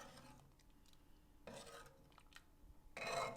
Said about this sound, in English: I'm going to take my ladle, give it a mix